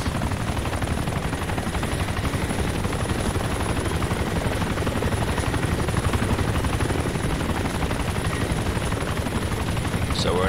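Attack helicopter in ARMA 2 flying with a steady, loud rotor thump and turbine whine that fills the whole stretch, close and continuous.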